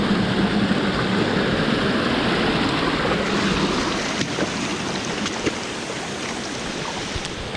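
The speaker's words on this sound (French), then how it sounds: "voilà, la grande cascade" A large waterfall on a stream in the Jura roars as a dense, steady rush of falling water, loud and close, with no voices.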